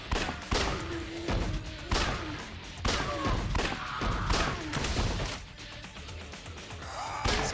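Repeated gunshots from the video game Lost Judgment crack out in uneven bursts, loud and close, with brief gaps between volleys.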